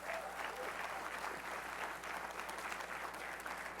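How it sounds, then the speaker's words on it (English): A school-district audience at a Teacher of the Year event gives a round of applause, steady dense clapping that holds at full strength for the whole stretch, close and loud. "Let's give ourselves a round of applause."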